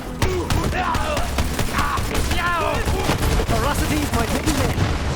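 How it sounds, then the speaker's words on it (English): Rapid gunfire in the video game Borderlands 3, with dense bursts of shots and sharp cracks over chaotic combat effects, loud and continuous with faint vocal sounds mixed in. "Commence the shoot!"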